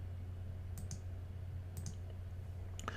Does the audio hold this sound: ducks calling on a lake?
no